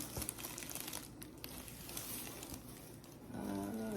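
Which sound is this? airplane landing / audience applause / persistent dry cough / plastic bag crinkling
plastic bag crinkling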